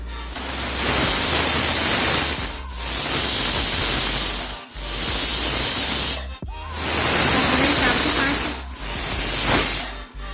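A pressure cooker steaming peas and potatoes over a medium flame gives off loud, steady hissing steam in long bursts separated by brief pauses, with no voices.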